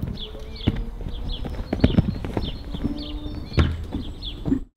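A horse striking its hooves on the ground during a groundwork session before rearing and pulling away, a steady run of close clip-clop thuds at an irregular walking rhythm over outdoor background noise.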